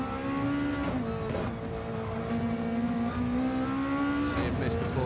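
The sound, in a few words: Lexus RCF GT500 race car engine at Spa, video game Gran Turismo 7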